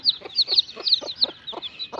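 A tethered desi hen with 22 newly hatched chicks gives a steady, rhythmic series of soft clucks, close and clear, with high chirps on each beat and no talk.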